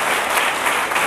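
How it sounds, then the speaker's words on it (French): Loud, dense audience applause welcoming a speaker at a formal gathering in the Congo, a continuous wash of many hands clapping without pause across the short stretch. "nous invitons l'orateur Maître Christian Bossembe sous vos applaudissements pour commencer"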